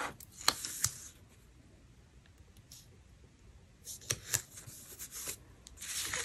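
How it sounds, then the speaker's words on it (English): Washi tapes peeled off a planner page, a few quiet crisp ripping and rustling strips in two bursts, close and faint with no voices. "Remove these washi tapes."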